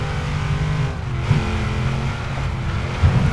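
A naturally aspirated 6.2 liter V8 Ford Mustang in the Forza Horizon 3 racing game holds a loud, steady engine drone, with sharp rev surges near the middle and at the end.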